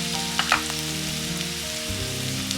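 Peas and potato for poha sauté with turmeric in a pan, making a soft, continuous sizzle with a few sharper crackles early on, over steady sustained tones.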